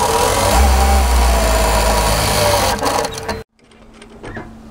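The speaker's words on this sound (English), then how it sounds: "stop, lift, turn and pivot, and continue stitching." A sewing machine runs loud and close while stitching an apron, a steady droning whir of rapid needle strokes that slows and cuts off abruptly, leaving quiet room sound and a few light handling noises.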